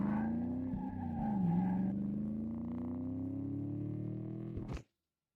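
A car performs a driving stunt, its engine droning loud and steady with rising and falling pitch and faint tire noise, ending abruptly after about five seconds.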